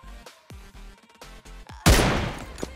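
Gunfire in the video game PUBG Lite on the Erangel map: a quick series of sharp, evenly spaced shots with short ringing tails, then a much louder, denser blast near the end.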